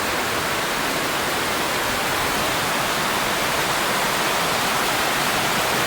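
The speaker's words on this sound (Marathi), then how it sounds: "मस्तपैकी पाणी पडतंय म्हणजे पाऊस पडतंय" Steady rain pouring down outdoors during a monsoon day, an even, dense hiss with no breaks or voices, loud and continuous throughout.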